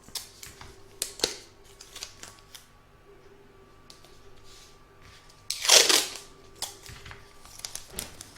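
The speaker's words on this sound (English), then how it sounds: "I'm going to place my backing fabric over the outline and tape it in place" Tape is pulled and pressed down to hold backing fabric on an embroidery hoop, with sharp clicks and taps and one loud ripping burst of tape partway through.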